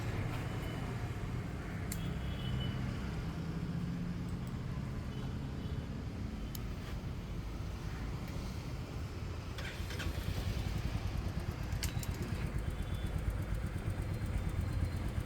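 A stock Royal Enfield Meteor 350 motorcycle engine runs at a steady idle after a battery replacement, a close, even mechanical rumble that holds for the whole stretch with no talking.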